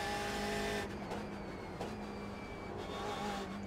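A BMW M8 GTE race car engine in the iRacing video game drones steadily at a quiet level, a constant mechanical hum with slight shifts in pitch as it drives.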